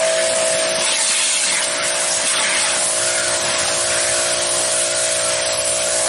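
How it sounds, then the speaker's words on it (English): Souped-up power washer, modified for more pressure, spraying in a continuous loud hiss that stays steady and close throughout, with no voices. "is a power washer that Steve didn't want because it didn't have enough pressure"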